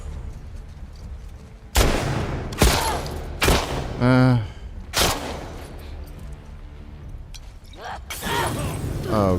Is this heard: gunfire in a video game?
yes